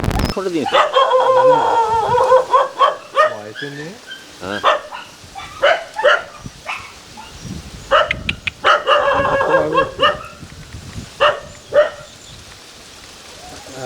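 Several Jonangi dogs bark in loud, overlapping bursts close by, with pauses between volleys and a steady rain-like patter in the background.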